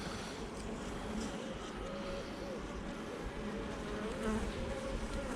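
Honeybees hum and buzz steadily around an open beehive as frames are handled, a dense close drone with individual bees whining past, continuous and fairly loud.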